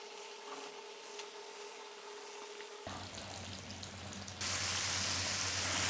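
Breaded chicken hot shots go into hot oil one by one, and a steady sizzle and crackle of frying grows louder partway through, close and without talk.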